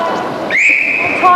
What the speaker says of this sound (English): Time on the whistle.